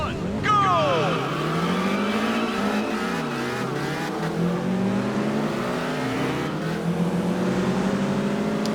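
Race cars roar through a race in the Test Drive Unlimited driving game, loud sustained engine drone with rising and falling revs as gears shift, continuous throughout.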